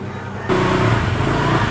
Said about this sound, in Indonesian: saya akan coba dulu melakukan penyalahan pada mesin ini